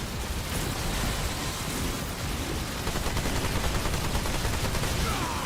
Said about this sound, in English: Sounds like my turret.